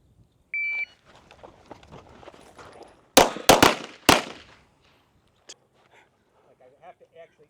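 Electronic shooting range timer gives a single short steady beep, followed by a quick burst of four sharp gunshots at an outdoor range, with someone talking quietly before and after.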